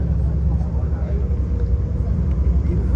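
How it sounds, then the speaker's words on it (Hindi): A shuttle bus starts up and drives along a road near the hotel, its engine a steady low rumble heard from inside throughout. "चले जी, अब शटल स्टार्ट हो रही है।"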